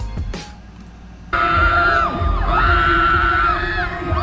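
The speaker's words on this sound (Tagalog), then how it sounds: "Maririnig nyo sa mga tao, sigaw sila ng sigaw." A large crowd roars and shouts continuously in a big space after a brief quieter moment, with cheering and whistling voices rising and falling.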